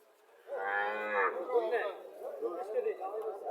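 A Friesian dairy cow moos loudly and close by in one long low call, followed by people talking nearby at a cattle sale in Comilla, Bangladesh.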